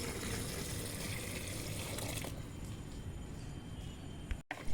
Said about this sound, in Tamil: நல்லா முழுகிற அளவுக்கு தண்ணி ஊற்றியாச்சு